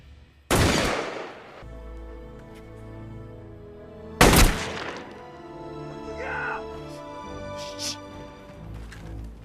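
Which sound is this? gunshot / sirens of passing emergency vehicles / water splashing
gunshot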